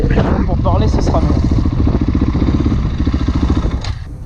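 Husqvarna 701 motorcycle riding on a road, its single-cylinder engine thrumming loud and close with a pulsing rumble under wind noise, and someone talks over it.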